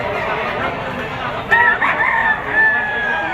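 A gold, yellow-legged stag rooster crows once at the Lipa auction market, a clear mid-clip call rising over a busy background murmur.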